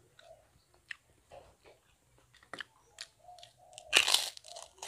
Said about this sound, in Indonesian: Kerupuknya tipis banget, gurih, enak banget.